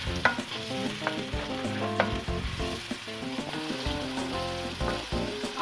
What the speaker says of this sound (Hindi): ये सारे मसाले डालकर अब हम इसको भून लेंगे। बहुत अच्छी तरह से इसको भूनना है